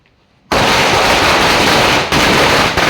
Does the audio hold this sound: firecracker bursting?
yes